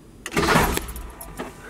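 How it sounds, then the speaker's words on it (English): A car engine running on rubbing alcohol as fuel is briefly cranked over in neutral: a short loud burst of starter and engine noise that swells and fades within about a second, followed by a quieter mechanical tail. "We're just gonna briefly crank it over."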